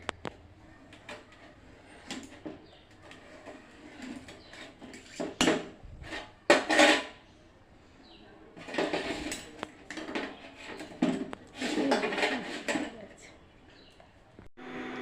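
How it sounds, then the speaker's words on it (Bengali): Cooked food being cut into pieces with a spoon, bursts of metal scraping and clinking against a dish, close and irregular, with quiet gaps between the clusters of strokes. "আমি একটা চামচের সাহায্যে কেটে নিচ্ছি"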